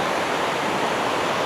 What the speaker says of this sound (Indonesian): Jadi curugnya aliran sungai gitulah modelnya